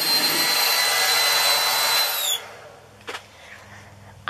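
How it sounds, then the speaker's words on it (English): Hair dryer blowing with a loud, steady airy roar and a faint high whine, then switching off partway through, leaving quiet room sound with a couple of small knocks. "I hope I'm not going to have to go out and get a new hair dryer."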